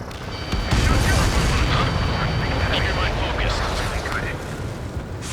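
Missile strike blasting an enemy transport in the air-combat game Ace Combat 7, a loud booming explosion with a rumbling roar that lingers and slowly fades, with radio chatter over it.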